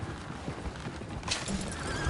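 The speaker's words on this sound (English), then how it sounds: "Oh, shit, the horses! Damn horses!" Horses in Red Dead Redemption 2 neigh and whinny while hooves clatter in a busy, scrambling clip-clop, loud and close over a rough outdoor background.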